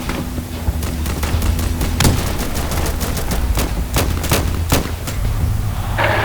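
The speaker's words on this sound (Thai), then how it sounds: "เกมนี้นี่ตายง่ายมากนะฮะโดนยิงนัด เดียวตาย" Gunfire in the tactical shooter video game Insurgency, with repeated sharp single shots and short bursts cracking over a steady low rumble of in-game battle ambience, loud and close throughout.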